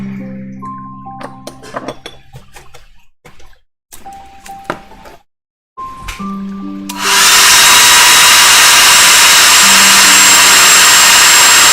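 A hair dryer dries watercolor paint during a night-sky painting session. Faint taps and soft tones come first, then the dryer switches on and roars loudly and steadily, close by, for the rest of the clip.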